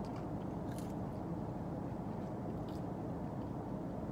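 Greasy French fries being eaten straight from the bag, with close, continuous crunchy chewing and biting under a steady background hum, no talking.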